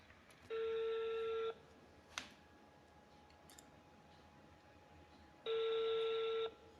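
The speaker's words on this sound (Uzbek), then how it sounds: "hozir telefon qilib turibmiz" A telephone ringback tone sounds twice, each a steady buzzing tone about a second long separated by several seconds of quiet, with a faint click in between.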